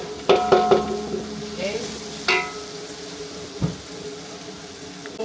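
Garlic, onion and ginger sautéing in a pan for chicken tinola, a steady soft sizzle broken by sharp scrapes and clinks of a utensil stirring against the pan, with a brief spoken word.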